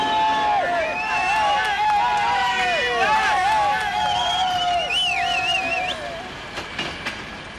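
A train slows to a stop, its brakes squealing in shrill, wavering tones that fade as the rumble dies away.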